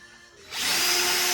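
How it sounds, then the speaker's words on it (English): A power drill bores through a board on a shop cabinet build, starting quietly and then rising into a loud, steady whirring grind that lasts to the end. "hold it in place and drill through here"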